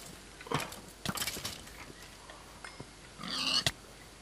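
A pig in the video game Minecraft grunts and squeals in short bursts as a skeleton shoots arrows at it, with a few sharp hits and sparse moments of quiet between.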